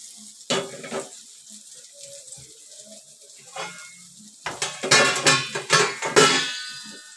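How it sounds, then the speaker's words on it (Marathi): Halwa fish fries in oil in a pan, with scattered spatula scrapes and clinks, then bursts of louder crackling sizzle toward the end, close and without talk. "हे बघा आता मी परतून घेते"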